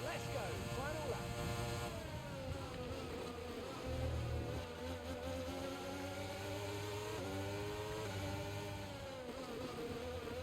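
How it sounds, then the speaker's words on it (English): Formula 1 race car in the F1 23 video game making an unusual buzzing engine note during the final lap, a steady high whine with rising and falling pitch sweeps, loud and continuous under players talking. "that's a new sound my car hasn't made before"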